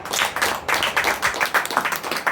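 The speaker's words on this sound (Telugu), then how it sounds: "గట్టిగా చప్పట్లు కొడదామా?" A congregation at a Telugu church service claps together in a loud, fast, rhythmic burst of many hands, close and continuous with short pauses, and no talk over it.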